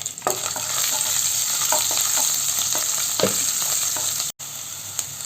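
Ginger, garlic and green chillies sauté in hot oil, giving a steady loud sizzle and frying hiss with intermittent stirring scrapes and clicks from a utensil in the pan, with no talking.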